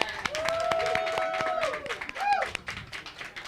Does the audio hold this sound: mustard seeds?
no